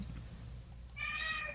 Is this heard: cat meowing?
yes